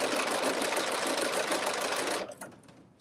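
A sewing machine fitted with a gathering foot runs at a steady, loud hum while gathering fabric for a dress, then stops abruptly near the end, leaving a few soft clicks.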